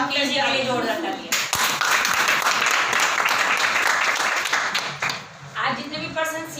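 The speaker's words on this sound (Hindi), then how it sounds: "जोरदार तालियां" An audience at an education meeting breaks into loud, sustained clapping that fills the room for several seconds. A voice is heard over the start and the end of it.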